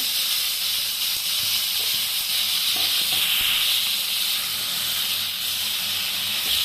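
Pizza ingredients hit a hot kadai on a gas stove and give off a loud, continuous steamy hiss that holds steady throughout, close up and with no speech.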